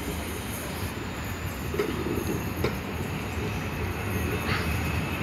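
A charter train hauled by Class 66 locomotive 66741 passing at trackside, with a continuous rumble of wheels, faint squeals and clicks, and a voice speaking over it.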